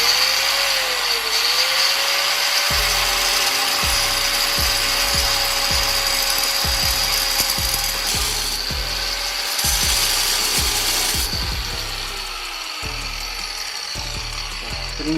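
A coil spring from a backyard shock replacement being cut through 1.5 coils with a power tool: a sustained high grinding whine over a rapid irregular ratcheting clatter, loud and continuous throughout with no talk.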